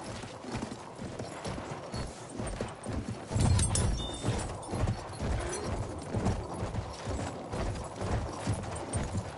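A horse gallops in Battlefield 1, its hooves beating a fast, steady clip-clop close up and continuously over a rumbling background.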